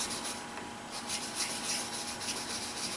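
Steady gritty rubbing of a straight razor worked across a Naniwa whetstone during honing, a continuous close scraping with slight rhythmic strokes and no voices.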